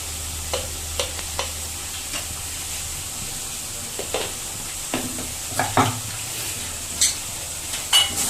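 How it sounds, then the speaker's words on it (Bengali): A pan of masala with chili powder and Kashmiri chili powder fries under a steady low sizzle, with a spoon scraping and stirring now and then in soft, scattered strokes. "দিয়ে এবার মশলাটা আমি কষিয়ে নেব।"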